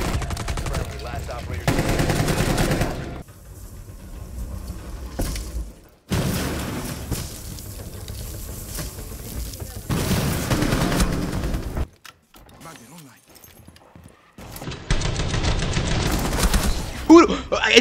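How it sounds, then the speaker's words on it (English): Bursts of automatic gunfire from a Rainbow Six Siege match, loud and close, arriving in several dense volleys separated by brief quiet gaps, with game effects and voices mixed in. "I shoot somebody else"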